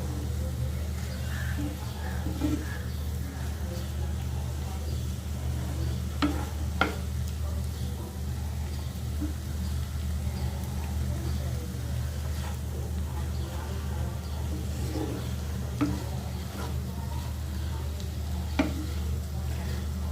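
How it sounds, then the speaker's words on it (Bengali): Taro leaves with ground shrimp frying in a pan, a steady sizzle under a low hum with occasional scrapes of stirring, while someone talks over it. "রান্না করছি কচু শাক চিংড়ি মাছ দিয়ে।"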